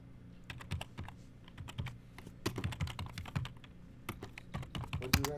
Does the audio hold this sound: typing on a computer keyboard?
yes